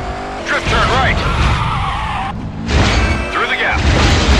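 A car drifting in the Stuntman Ignition video game, loud tire squeals rising and falling over engine roar, with a game voice calling out instructions.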